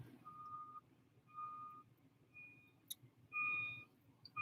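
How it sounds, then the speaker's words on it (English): A truck in a parking lot beeps while reversing, the evenly spaced electronic tones repeating at a distance over a low engine rumble, with a few overlapping beeps from another vehicle near the end. "we got people backing up all over the place"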